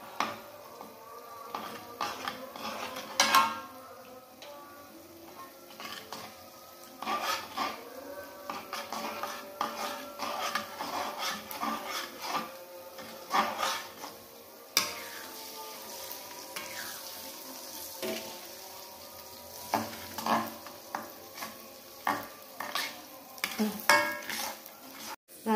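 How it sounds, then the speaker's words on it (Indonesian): Fried rice vermicelli stirred in a pan, with a steady sizzle under repeated scraping and clinking of a utensil against the metal at close range. "Diaduk-aduk."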